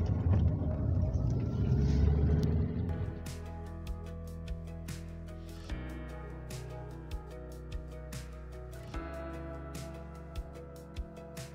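A car drives along with a steady low engine hum inside the cabin, louder at first and then settling into a quieter drone broken by regular soft thumps from the road.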